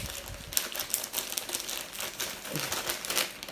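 A plastic microwave potato-cooking bag being pressed shut in a kitchen, giving close, crisp crinkling with scattered sharp clicks and rustles of the closure throughout.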